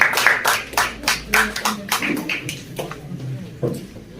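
A handful of people clap unevenly at an all-Kashmir pigeon tournament event, the sharp claps close and fading out over a few seconds, with some faint voice underneath.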